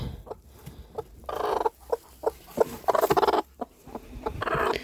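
A turkey hen being readied to sit on goose eggs clucks in short, sharp bursts, with intermittent louder fluttering squawks close by and brief pauses between.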